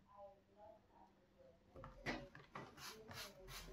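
A plane iron honed freehand on a worn sharpening plate, rhythmic scraping strokes under even pressure, quiet and close, with faint talk at the start before the rubbing becomes clear.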